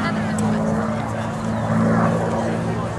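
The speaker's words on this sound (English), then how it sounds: "What an absolutely magic sound, the Packard Merlin" The Packard Merlin engine of a WWII P-51 Mustang fighter flying at an airshow, a loud steady drone with a deep growling hum that holds throughout and rises slightly midway.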